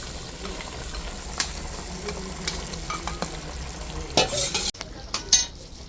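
Fried potato pieces and a katla fish head sizzle in a pan as they are stirred, a steady frying hiss with scattered scraping clicks, close and continuous, getting busier near the end before a brief drop.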